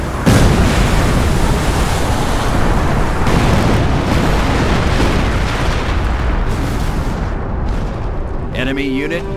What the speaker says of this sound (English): Commence artillery strike!